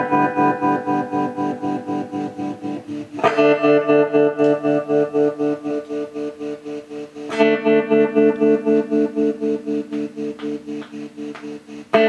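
Sustained electronic chords pulse through an M.P.Electronics effects unit's tremolo, throbbing loudly in a steady fast rhythm, with the chord changing twice and each change struck with a bright attack.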